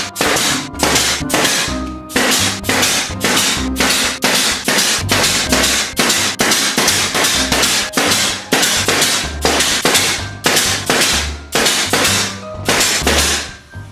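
Hammer driving 1 1/4 inch nails into a glued plywood top panel of a slatwall tool board bin, a long run of sharp, loud, evenly spaced blows, about two per second, with no talk.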